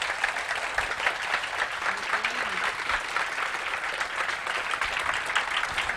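Sustained audience applause welcoming Dr. Wallace to a talk on dependent origination in Buddhism and science, a steady wash of many hands clapping throughout with a few faint low thumps.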